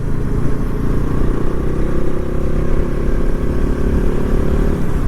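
A single-cylinder engine on a 2013 Husqvarna TR650 motorcycle drones steadily while riding, a loud low rumble with continuous wind and road noise.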